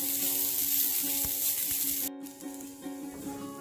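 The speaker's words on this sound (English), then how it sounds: "I'm going to add the coconut, and we are going to fry the coconut until it's golden brown" Grated coconut frying in a hot pan over a medium flame, giving off a steady, even sizzle that carries on without a break and sits fairly close.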